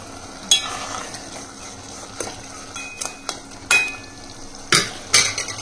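Chopped spinach and onion stir-frying in a pan over a high flame, a low sizzle under repeated scraping and clinking of a spatula against the pan at an uneven rhythm.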